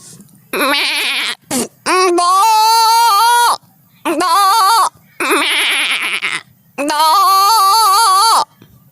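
A person imitates a goat, letting out several wavering bleats in short bursts separated by pauses, close and loud.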